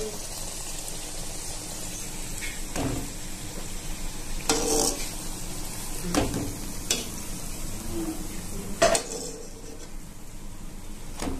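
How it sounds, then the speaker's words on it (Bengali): Palm-fruit luchi frying in hot oil, a steady low sizzle under occasional stirring and clinking of utensils against the pan, moderately close. "এইভাবে সব লুচিগুলো ভেজে নেব।"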